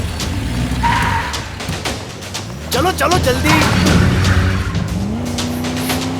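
Car driven fast with tires skidding and squealing during a chase, engine roar and screeching under urgent shouted voices throughout.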